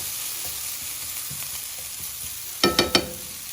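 Leftover brisket breakfast hash fries in a skillet with a steady soft sizzle, then three quick louder scraping stirs near the end.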